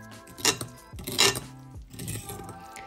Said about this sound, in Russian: Чуть-чуть соды вы можете загасить, я не стала. И перемешиваем.